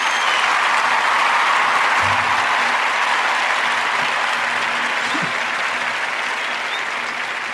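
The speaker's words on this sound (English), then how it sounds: "we're going to give these young men a special round of applause" Steady, dense applause from an audience at a football-themed gathering, a continuous wash of many hands clapping at even loudness throughout, with no talk over it.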